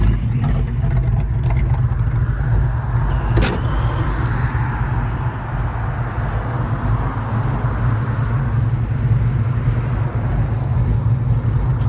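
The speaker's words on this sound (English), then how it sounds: "Engine itself sounds great." A 1968 Ford Fairlane 500 Fastback engine runs at a steady idle, a constant low rumble close by that holds level throughout, with a brief metallic clink partway in.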